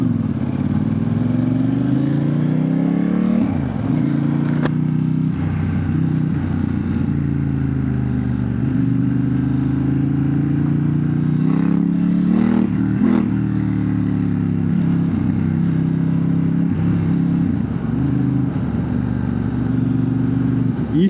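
Motorcycle engine and exhaust while riding, a loud continuous drone that rises and falls with throttle changes, with brief clattering knocks along the way.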